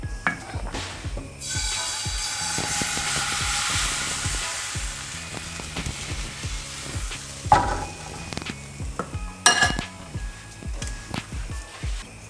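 Steady sizzling of thin pancake batter frying in a hot greased pan, with scattered clicks and scrapes of utensils; a couple of louder knocks near the end.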